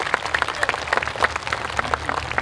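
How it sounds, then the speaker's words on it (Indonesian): A crowd claps for a political party chairman at a Maulid Nabi religious gathering with sholawat: dense, lively applause from many hands, loud and close, sustained evenly throughout. "Tepuk tangan untuk Bapak Erlangga Hartarto."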